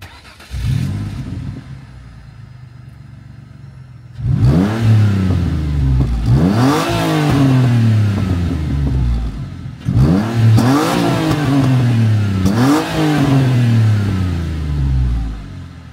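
A 2002 Ford Mondeo ST220 with a 3.0 V6 revving while stationary, a brief blip followed by several loud, deep rising and falling revs in quick succession, close and alone.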